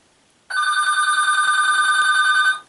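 A telephone bell rings in one steady, loud burst of about two seconds, a bright trilling tone that starts abruptly out of near silence and then cuts off.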